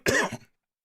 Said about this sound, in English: I started coughing.